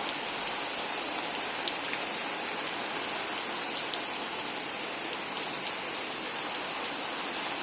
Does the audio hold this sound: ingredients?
no